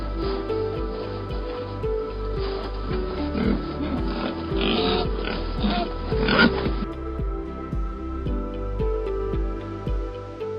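Pigs are on the move during early-morning farm-to-plant transport. A dense, continuous chorus of grunts and oinks sits over a rhythmic mechanical thumping, fairly loud and close, without speech.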